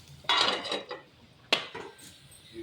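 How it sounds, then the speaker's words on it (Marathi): A metal lid is set back onto a cooking pot while vada are being fried, giving a sharp clatter partway through, with softer clinks and scraping of kitchenware before it, close by and without talk. "आता ठेवूया परत एकदा झाकण"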